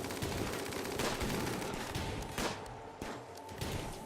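Gunfire in the video game RimWorld during a cave fight, including a charge lance: a fast stream of small synthetic shot pops with a few louder bursts, steady and moderately loud with no talking.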